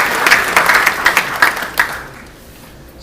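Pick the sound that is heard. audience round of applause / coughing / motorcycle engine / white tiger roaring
audience round of applause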